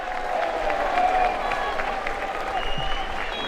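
Crowd at a Jersey Bulls versus Raynes Park Vale football match clapping and cheering just before kick-off, a steady wash of applause at moderate distance with faint voices mixed in.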